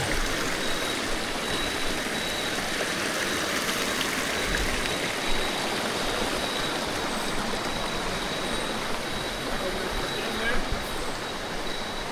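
Steady, broadband rushing of a flowing river, continuous and fairly close, with no distinct voices over it.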